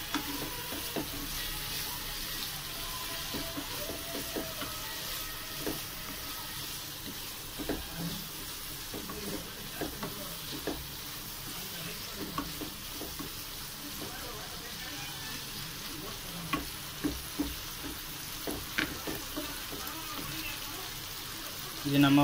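Prawn thokku cooks in a pan with fennel seeds and ginger-garlic paste, giving off a continuous, even sizzle and frying crackle, with occasional voices in the background.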